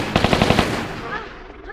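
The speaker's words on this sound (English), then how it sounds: "I'm running out of Uzi ammo." Rapid burst of Uzi fire in Tomb Raider 3, about six quick close shots in a tight rhythm, fading into a short reverberant tail with no talk over it.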